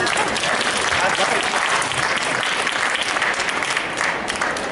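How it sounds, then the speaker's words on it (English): Dense, steady applause from an audience at a hypnosis talk at the Whole Life Expo, filling the whole stretch at an even, loud level with no break. "Get a round of applause."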